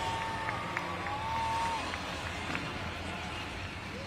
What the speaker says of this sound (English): Round of applause for our FMX riders again